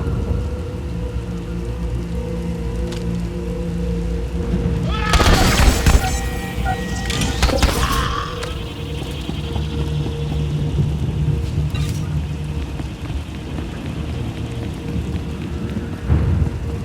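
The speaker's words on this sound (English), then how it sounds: "Hard to track them through the storm." Steady heavy rain pours over a stormy battlefield in Star Wars: The Old Republic, with a loud crackling thunderclap midway and rumbling in the background, plus faint voices.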